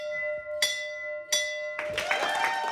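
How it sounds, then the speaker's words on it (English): A cancer patient rings a hospital bell to mark the end of treatment: three bell strikes, two clear single tolls followed by a busier burst of ringing, each leaving a long sustained shimmer. "ringing the bell to conclude her battle."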